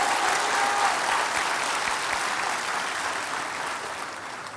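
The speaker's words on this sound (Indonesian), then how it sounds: "Berikan tepuk tangan sekali lagi" A church congregation breaks into sustained applause during a service, a thick, even wash of clapping from a large crowd that stays strong and slowly fades near the end.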